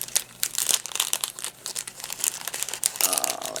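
Plastic packaging holding tiny stickers from a Temu haul being opened, crisp close crinkling and crackling in dense, irregular bursts, with a brief sharper tearing rustle near the end.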